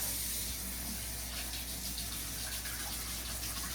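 Water runs steadily from a tap being warmed, a constant close gushing stream filling a container.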